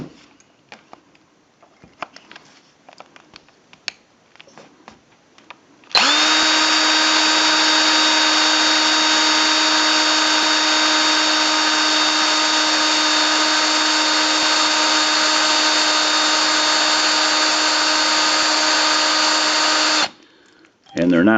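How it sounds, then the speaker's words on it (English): A power drill runs continuously at high speed for about fourteen seconds, drilling into a Briggs & Stratton carburetor, a loud steady whine, after a stretch of faint handling noises. "they're not the best drill bits here, so we're going to speed that up a little"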